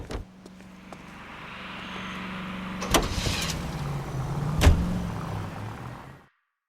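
A car in L.A. Noire drives off with an engine hum that rises steadily, passing a few clunks and thumps before cutting off abruptly at the end.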